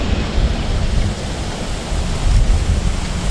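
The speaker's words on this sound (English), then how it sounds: "This current is fast, man." Swift river current rushes past at a camping and fishing spot, a loud, steady broadband roar with gusty surges, close to the microphone and with no talking.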